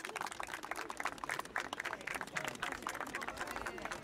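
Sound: applause

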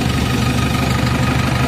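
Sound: JCB machine engine started and running

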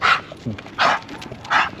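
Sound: dogs barking

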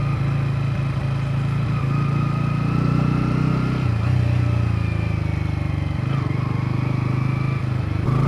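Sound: Bajaj Pulsar N150 motorcycle being ridden

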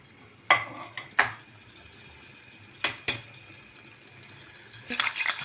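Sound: minced garlic frying in fat

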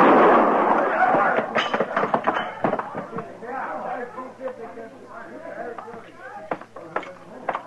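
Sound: gunshots in a radio western drama

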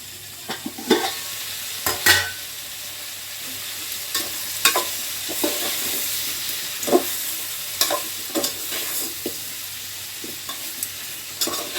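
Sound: bottle gourd pieces cooking in oil

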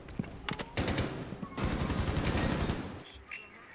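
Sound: gunfire in the video game Rainbow Six Siege

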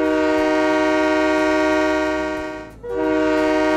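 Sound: work train horn in Train Mechanic Simulator 2017 video game

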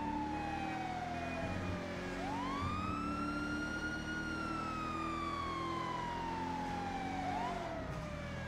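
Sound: police car siren in the video game Police World

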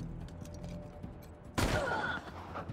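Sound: gunshots in the video game Wasteland 3

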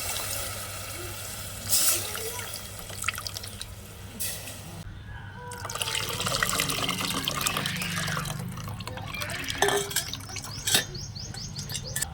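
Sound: pouring water into a pot

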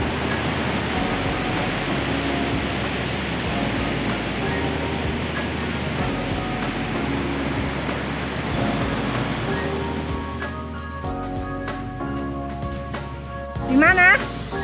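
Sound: river flowing beside a forest restaurant

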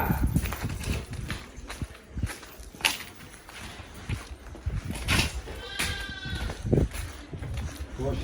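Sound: lamb bleating

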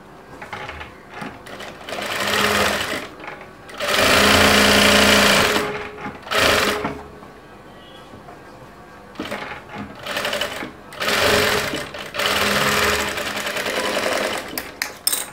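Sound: sewing machine stitching padded blouse front part

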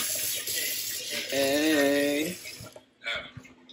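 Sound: rinsing something out under running water

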